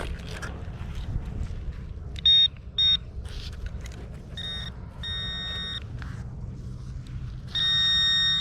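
An Equinox 800 metal detector sweeping a beach sounds a small target with several short, bright electronic tones: two brief beeps, then longer sustained tones, over soft background rumble.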